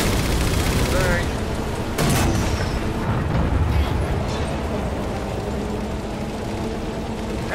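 Bursts of gunfire and a heavy boom ring out in the Halo 4 video game, loud and sharp early on, then fading into a rumbling combat backdrop with occasional shots.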